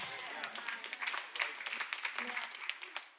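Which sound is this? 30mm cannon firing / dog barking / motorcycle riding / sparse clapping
sparse clapping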